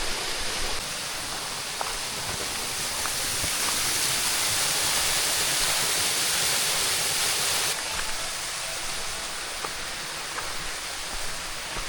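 A strong waterfall roaring steadily and loudly, a dense unbroken rush of falling water with no pauses and no voices.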